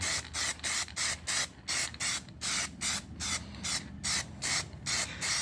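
Spray paint can hissing onto a Traxxas Rustler RC car body in short, evenly spaced bursts, close and fairly loud, about a dozen sprays in a steady rhythm.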